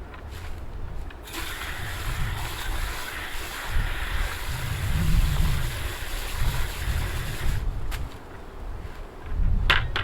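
Liquid poured off into a catch basin from a home-made impact mill used to process ground IC chips for gold, a steady splashing wash rising and falling across the whole stretch with no talking.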